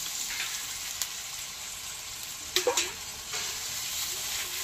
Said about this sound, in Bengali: টমেটোটা দিয়েছি, এখানে একটু নাড়ানাড়ি করার পরেই দিলাম একটু জল